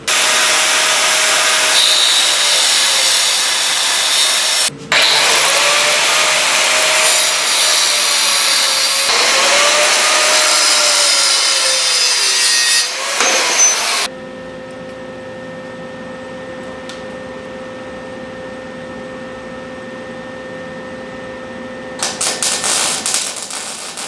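A power tool cuts through a metal part for a hot rod coupe build, with a loud, continuous, buzzing cut lasting about fourteen seconds, one brief pause in the middle, then a quieter whining run-down and a short rattle at the end.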